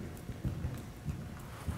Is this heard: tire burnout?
no